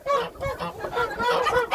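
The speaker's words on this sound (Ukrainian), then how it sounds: "гуси. Га-га-га." Several domestic geese on a farmyard honk loudly and close by in a rapid run of overlapping nasal calls, nearly continuous with no pauses.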